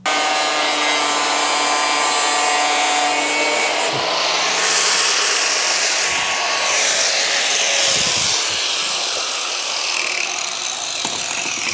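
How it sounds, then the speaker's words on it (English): Power tool cutting a radius into the outer sheet-metal fender of an 80 Series Land Cruiser, a loud continuous grinding whine with shifting pitch throughout, close up. "I'm just going to make a radius cut on the outer fender here"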